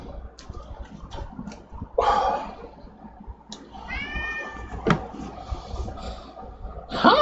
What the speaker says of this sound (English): He's been meowing up a storm for the last 45 minutes or so.